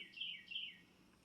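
A wren calls outdoors behind a house, two bright, high chirping phrases in quick succession, faint and slightly distant, with no voices over them.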